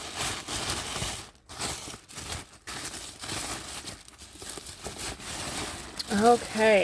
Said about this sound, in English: we're going to unwrap this one